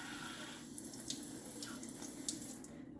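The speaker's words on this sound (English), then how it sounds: "I'm gonna go with half a cup of water and see how that goes first." Half a cup of water is poured into a pan of seasoned meat for a Cinco de Mayo taco dish, making a soft, steady splashing trickle at low level with no talking.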